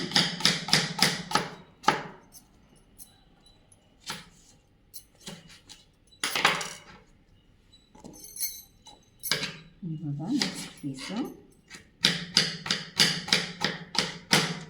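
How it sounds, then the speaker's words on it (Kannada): A knife chopping fruit into small pieces on a board for a fruit salad, quick bursts of sharp close taps in rapid rhythmic runs with pauses between, and a person speaking in the gaps. "ಚಿಕ್ಕದಾಗಿ ಚೊಕ್ಕವಾಗಿ ಕಟ್ ಮಾಡಿಟ್ಕೋಣ"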